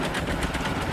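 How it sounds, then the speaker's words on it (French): The engine of a trike in Scrap Mechanic starts up again, giving a dense, rough, buzzing drone that holds steady and loud for about a second with no talk over it. "Je réactive le moteur."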